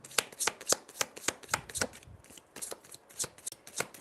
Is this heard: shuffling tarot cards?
yes